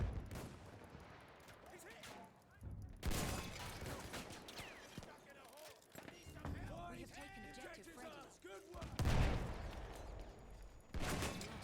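Gunfire and rocket shots in a Battlefield-style PC game during a 12v12 Conquest match, with sharp bursts and loud broadband blasts scattered through the stretch, some under talk.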